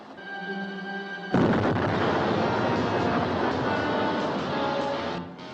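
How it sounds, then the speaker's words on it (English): A sudden loud explosion in an old science-fiction TV episode cuts over a steady tone and leaves a long, roaring rumble that fills the rest of the clip before easing slightly. "Explosion."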